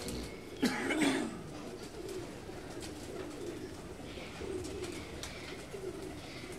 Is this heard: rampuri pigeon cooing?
yes